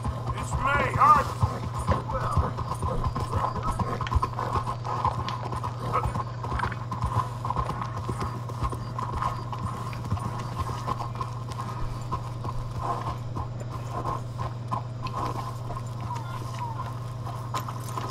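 Steady clip-clop of horse hooves in Red Dead Redemption 2 runs throughout over a constant low hum, with occasional voices and scattered clatter.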